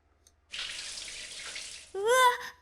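Hot water gushes from a household tap in the horror video game Corpse Party, a steady hissing splash for about a second and a half before a sharp, higher-pitched exclamation cuts in.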